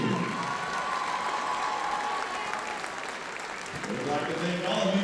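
Crowd applause fills a high-school basketball gymnasium after a holiday tournament championship game, a steady dense roar of clapping with some cheering, loud and sustained throughout, with a voice heard under it.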